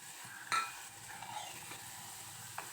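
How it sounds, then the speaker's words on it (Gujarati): Curry leaves hit hot homemade coconut oil with a sharp crackle, then a spoon stirs in the pan with faint sizzling and a light clink near the end, quiet and close. "હા, એ મીઠો લીમડો નાખી દો. હલાવો."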